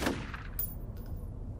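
A single gunshot in the F.E.A.R. shooter game fires with a sharp broadband crack, then a smaller impact tick follows, all over a steady low game rumble.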